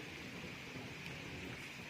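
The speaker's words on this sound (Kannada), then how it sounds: "ಮಳೆ" Steady rain falls without a break outside a home late at night, a continuous soft hiss with no voices or other sounds over it.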